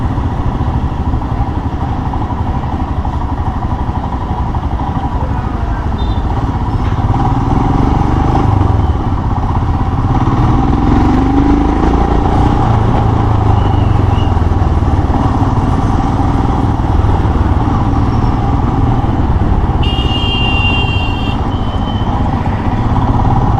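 A motorcycle on a test ride pulls in second gear with a loud, continuous engine roar and road and wind noise throughout.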